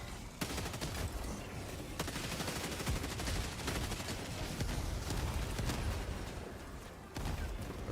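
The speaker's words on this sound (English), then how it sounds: "I'll support you guys with some sickle fire" The Sickle laser rifle in the video game Helldivers 2 fires in a sustained rapid stream, with constant crackling shots and combat noise that pause briefly near the end before resuming.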